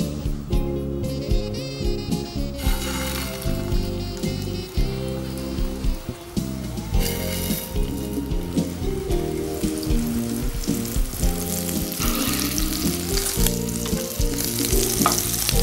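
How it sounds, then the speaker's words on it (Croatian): Meatballs fry in hot oil in a pan, giving a loud, steady sizzle with bursts of crackling and spatter throughout, alone without any voices. "pržimo ih na vrućem ulju"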